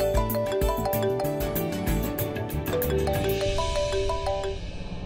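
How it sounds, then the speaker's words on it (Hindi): A phone ringing with a melodic tonal ringtone that repeats in short musical phrases, steady and fairly loud, with no talking over it. "देखो फोन आया है"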